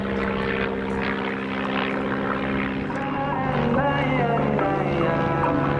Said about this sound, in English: a perfect demonstration of the aerobatic capabilities of this aircraft